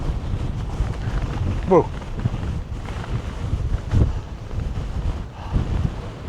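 Strong wind buffets the microphone on a mountain peak at Mount Laguna, a constant low roar with gusty swells, while a person briefly exclaims over it.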